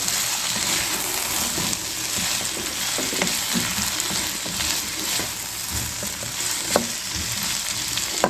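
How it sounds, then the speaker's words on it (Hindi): Onions, cabbage, capsicum and chillies stir-fried together in a pan for chicken macaroni, a steady close sizzle with scraping and clinking of the spatula as the vegetables are tossed, no voices. "तो इसे प्याज में ऐड कर रही हूँ, अच्छे तरीके से मिक्स करेंगे इसको"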